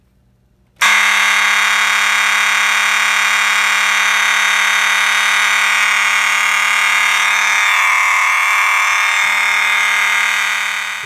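A Gentex GMS fire alarm horn blares loud and steady at close range, one continuous harsh tone running unbroken from start to finish with no voices.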